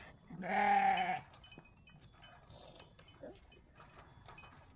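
A goat being fed gives one loud, close bleat lasting about a second, followed by quiet background rustling and faint small noises.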